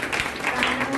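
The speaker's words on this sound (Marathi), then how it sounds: "ताईंसाठी जोरदार टाळ्या" A burst of audience applause for someone speaker at a women's gathering in Ambegaon Pathar, Katraj: dense, steady clapping that fills the whole short moment without a break.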